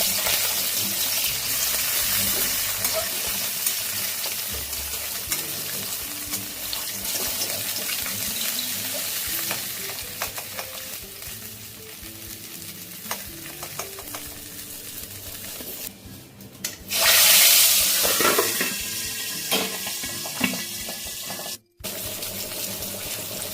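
Pabda fish frying in hot oil, a steady hissing sizzle with crackling spatters throughout, growing louder in a sharp burst near the end, no voices.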